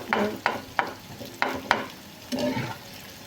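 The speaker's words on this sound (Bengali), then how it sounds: "একদম লাল লাল করে মুচমুচা করে ভেজে নেব।" Ingredients for homemade balachao frying in plenty of oil, fried until red and crisp: a steady sizzle runs throughout, broken by several sharp scraping stirs of a spatula against the pan, close and fairly loud.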